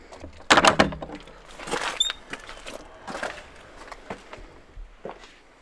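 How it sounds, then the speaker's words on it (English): During assembly of a timber building, a wooden door is pulled open with a loud knock and rattle, followed by scattered thumps, scrapes and knocks of handling and movement nearby, with no voices. "Can you open the door?"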